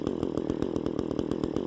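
Chainsaw cutting through a tree branch while gathering a Christmas tree in snow, the motor droning steadily and loudly throughout with a regular pulsing chatter as the chain bites into the wood.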